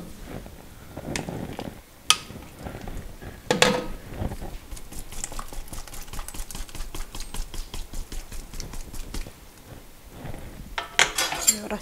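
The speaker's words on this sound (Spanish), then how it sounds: "Así revolvemos." A ladle stirs chicken soup with potatoes, tomato and guajillo in a metal pot, producing rapid, rhythmic clinks and scrapes that run for several seconds between a few louder knocks against the pot.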